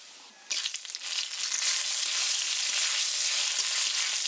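Nigella seeds dropped into hot oil for tempering burst into a loud, bright, steady sizzle that starts abruptly and holds continuously, close and without talk.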